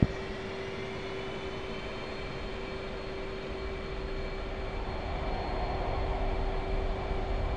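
Jet engine in Digital Combat Simulator spooling up under throttle: a steady, loud roar with a sustained whine that thickens and grows slightly louder toward the end, no talking.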